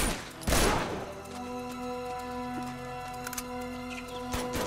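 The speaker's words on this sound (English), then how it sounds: "shooting people for no reason." Gunfire from the Uncharted 2 video game: one loud burst of shots early on, followed by quieter game ambience with a few faint distant pops.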